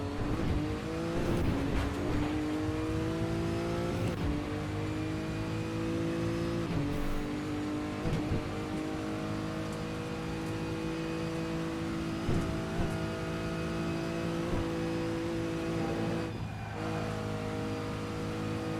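Race car in a sim racing game, engine droning loud and constant as the throttle rises and falls, revs climbing and dropping through gear changes with occasional lifts off the pedal, no talk over it.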